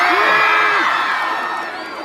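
A large crowd at a live show with Ang Probinsyano actors Coco Martin and Yassi Pressman in Naga City shouts and cheers together. The roar is loud, dense and continuous, then eases slightly toward the end.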